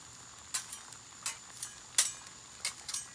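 Eggs hit a hot Blackstone griddle with a faint sizzle, punctuated by several sharp metallic scrapes and taps of a utensil on the steel surface, close up with no talking.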